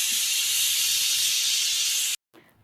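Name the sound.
whistle with hissing steam while cooking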